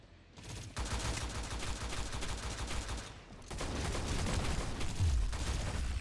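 Rapid bursts of automatic gunfire from the T3 Arena shooter video game, loud and dense, running almost without a break through two long volleys separated by a brief lull.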